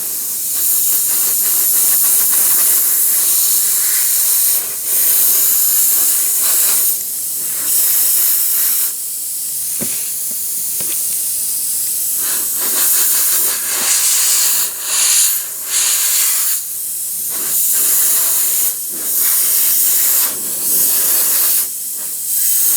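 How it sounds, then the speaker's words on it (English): An airbrush spraying thinned paint with the airflow kept running nonstop, giving a steady close hiss throughout that swells and dips briefly as the trigger shifts, with no talking. "I keep the air going constantly"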